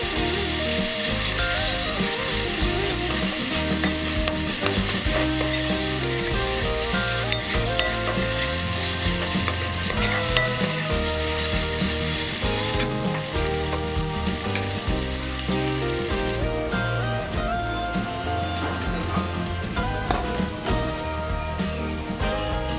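Steady, loud sizzling of ginger garlic paste frying in hot oil for a Telangana-style fish curry, a dense crackling hiss with stirring scrapes, constant throughout and close, with no voice.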